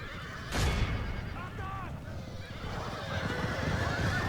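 Several horses whinny shrilly in a Medieval 2 Total War battle, their cries rising and falling over a thick, continuous din of fighting and hoofbeats, with a sharp impact early on.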